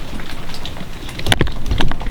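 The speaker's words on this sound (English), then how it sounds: "it's raining now" Steady outdoor rain hissing and pattering, fairly loud and close, with a few sharper droplet hits toward the end and no voices.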